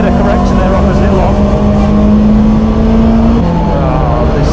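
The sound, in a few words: Lancia Delta engine driven hard through hairpin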